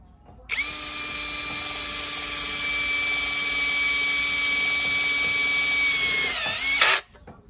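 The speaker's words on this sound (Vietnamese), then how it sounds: "em sẽ test chức năng khoan sắt khoan gỗ với cái con Makita 13 ly" Makita 13mm three-function drill drilling into wood, a loud steady high-pitched whine that starts abruptly, holds for about six seconds, dips slightly near the end and cuts off.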